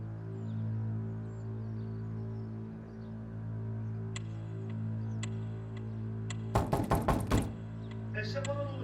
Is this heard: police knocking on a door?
yes